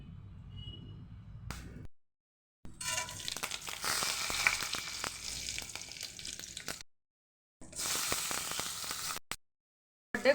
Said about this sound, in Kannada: ಒಗ್ಗರಣೆ ಮಾಡಿಕೊಳ್ಳೋಣ. ಸ್ವಲ್ಪ ಎಣ್ಣೆ ತಗೊಳ್ಳಿ.